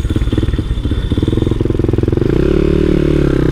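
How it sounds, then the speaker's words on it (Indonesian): A modified Honda Monkey motorcycle bored up to 181 cc runs close by, its engine pulsing in a rapid, even idle before rising into a louder, steadier rev. "akhirnya kita nyobain Honda Monkey yang modifikasi jadi mahal banget"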